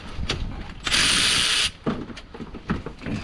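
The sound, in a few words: socket ratchet cracking a bolt loose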